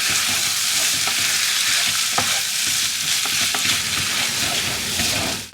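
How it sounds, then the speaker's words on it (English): Garlic and ginger are stirred in a curry pan over high heat, giving a loud, continuous frying sizzle. Spoon scrapes and clicks cut through it, and it drops off sharply at the very end. "And then give it all a good stir."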